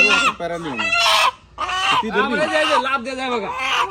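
A rooster clucks close by in a run of loud, rising and falling calls with a short pause partway through, heard on a farm outdoors.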